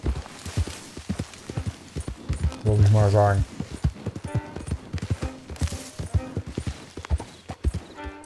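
Horse hooves clip-clopping in the Western video game Red Dead Online, a steady rhythmic trot close by, heard under someone talking in German and other game sounds.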